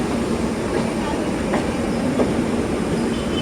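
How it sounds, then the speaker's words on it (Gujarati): Tejas Rajdhani express train rolling from a loop line onto the main line, a close continuous rumble of wheels with faint clacks over rail joints and a thin squeal, steady and loud. "लूप लाइन से मेन लाइन में जाती हुई"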